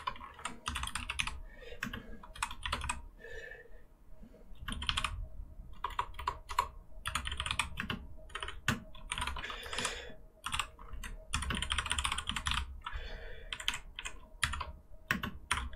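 Fast, continuous typing on a computer keyboard while coding a Python snake game, dense close clatter of keys in bursts with brief pauses, no talking.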